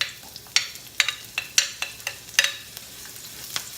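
Onions added to a hot pan after garlic for Kapampangan lutong, frying over a faint steady sizzle, with several sharp scraping stirs and clacks of a utensil against the pan at irregular intervals, close and alone.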